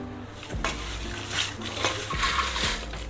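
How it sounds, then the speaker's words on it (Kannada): Dry red chillies are stirred and roasted in a pan with a little oil and salt for homemade sambar powder, with repeated scraping clinks of a spatula against metal over a soft continuous sizzle, close and fairly loud. "ಈಗ ಖಾರದ ಮೆಣಸಿನ್ಕಾಯಿ ಹಾಕ್ಕೊತಾ ಇದ್ದೀನಿ"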